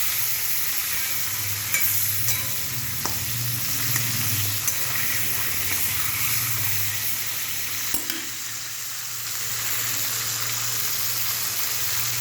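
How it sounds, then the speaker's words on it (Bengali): Fish pieces fry lightly in oil in a pan, giving a loud, steady close-up sizzle with soft bubbling and a low hum underneath, broken by a couple of faint clicks and no voices. "হালকা করে মাছগুলো ভেজে নেবো জাস্ট।"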